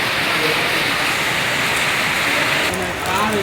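Rainwater pours steadily from a pipeline into an ancient well during a cyclone in Chennai, a dense continuous rushing splash that stays even and loud throughout.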